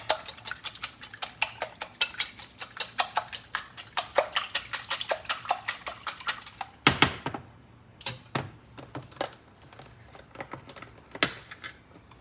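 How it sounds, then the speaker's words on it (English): Six eggs beaten with a utensil against a bowl: rapid, regular clicking strokes close up, then a pause and a few scattered taps. "eggs here. I'm just going to beat them up."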